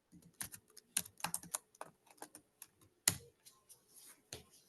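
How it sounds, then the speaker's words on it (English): Rapid computer keyboard typing during an online group meeting, with irregular bursts of clicky keystrokes and short pauses, close and fairly quiet, with no talking. "I hear you typing in the chat"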